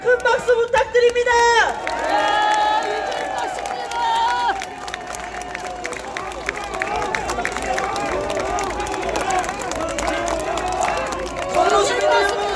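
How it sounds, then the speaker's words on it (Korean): An outdoor crowd at an election campaign rally for a party candidate breaks into loud cheering and applause, with shouts and chanting voices mixed through the din and a brief burst of sharp noise at the start. "미래통합당 기호 1번 황교안 후보에게 큰 박수 부탁드립니다"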